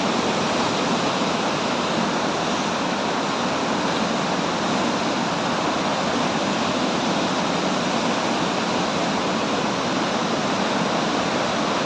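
Dhuadhar Falls pouring over white marble rock, a steady, dense roar of falling water that fills the whole clip loudly and without a break.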